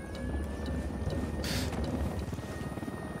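A helicopter approaches in the video game Ghost Recon Wildlands, a steady loud rotor drone and engine rumble filling the scene, with a brief louder whoosh midway.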